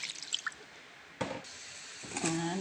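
A bowl of water is poured into a pot of lechon paksiw with vinegar, onion and garlic, giving a soft splash, a brief gurgle and a short trickling pour, close and quiet.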